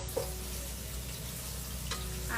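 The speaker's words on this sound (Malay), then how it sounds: "Lepas kita tumis bawang merah, bawang putih dengan daun kari" Shallots, garlic and curry leaves sautéing in hot oil for Kedah laksa lemak, a continuous close sizzle with a faint stir partway through.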